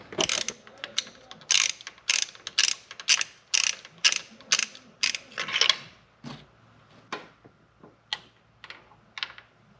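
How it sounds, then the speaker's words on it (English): A 5/8 inch socket ratchet clicks in quick, bursty runs of sharp pawl ticks, close and loud, while spark plugs are removed from a Polaris RZR, then slows to a few spaced clicks. "A 5/8 inch socket and gets those plugs out."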